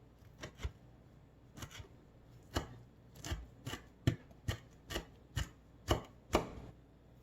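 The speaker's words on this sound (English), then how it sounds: "So just chop it up." A knife chops rinsed fresh cilantro on a cutting board in about a dozen crisp, irregular strokes, some coming in quick pairs, close and clear with no talking.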